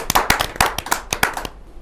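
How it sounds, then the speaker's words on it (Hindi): A few people clap at a Hindi poetry gathering (kavi sammelan), giving a short run of sharp, close, separate claps with an uneven rhythm before they stop. "एक जोरदार ताली।"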